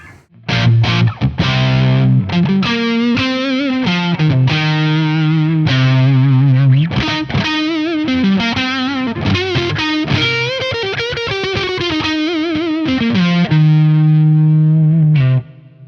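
Overdriven electric guitar on its neck humbucker pickup, through a modern amp, with a warm, thick tone plays a continuous riff of chords and notes, loud and close with no talking.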